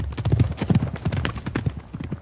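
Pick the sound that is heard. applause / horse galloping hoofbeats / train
horse galloping hoofbeats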